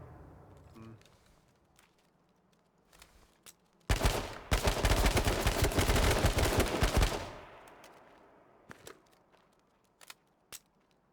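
Gunfire in the video game H1Z1 breaks out as a dense, loud burst of rapid shots lasting about three seconds, with quieter scattered clicks and a few faint sharp pops before and after.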